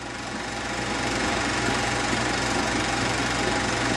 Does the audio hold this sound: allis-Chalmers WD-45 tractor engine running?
yes